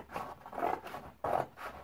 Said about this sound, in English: I'm just going to very carefully